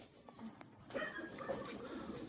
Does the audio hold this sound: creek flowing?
no